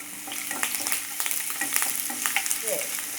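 Ginger, garlic and green chilli fry in coconut oil on a tawa, giving a steady close sizzle with crackling pops and occasional stirring scrapes.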